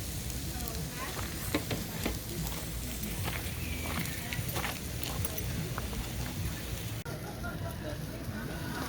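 Ribeye steaks sizzle on a campfire grill and are flipped, a steady close crackling hiss with scattered sharp pops and light clatters of the turning tool.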